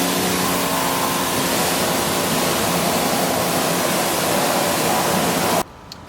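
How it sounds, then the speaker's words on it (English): Steady broadband hiss of water spraying onto a car wheel during a touchless wheel wash, loud and continuous for several seconds before cutting off abruptly near the end. "we're going to go ahead and get it wet with just water"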